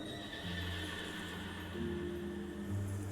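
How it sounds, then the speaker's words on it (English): A horse neighs in the background of a Honkai: Star Rail game scene, drawn-out whinnying tones rising over a steady ambient backdrop for about three seconds, with no voices. "I definitely hear a horse in the background"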